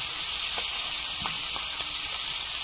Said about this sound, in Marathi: बघताय आवाज मच्छीचा एकदम असा जवळ लावलेला आहे कॅमेरा